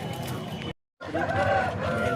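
Chickens and roosters of a Tamil Nadu breed at a Saturday hen market in Mydukur, with crowing and clucking under the chatter of nearby people, broken by a short silent gap.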